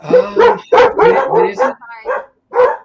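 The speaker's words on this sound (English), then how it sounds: "Wait till the dogs calm down." Several dogs bark and yip in short, loud bursts close by, mixed in with people talking over them at an indoor pub-style party.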